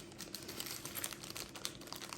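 A small gift bag holding presents being crinkled and handled, with brief close rustling and crackling of the bag, quiet and without talking.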